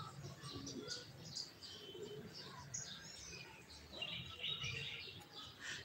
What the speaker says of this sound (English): that's the bird making noise